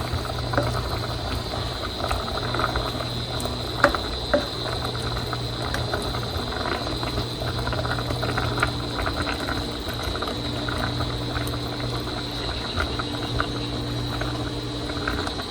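An uncovered pot of dinengdeng, the Ilocano vegetable stew, simmers with a steady, even bubbling that runs on without a break, moderately close and with no voices over it.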